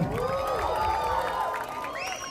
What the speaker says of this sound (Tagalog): palakpakan naman natin, guys! May kasamang hiyawan!